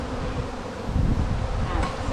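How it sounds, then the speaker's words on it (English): Dense swarm of honey bees droning loud and close in a continuous buzzing hum, steady throughout with no voices. "lots of bees too. Just the amount of bees."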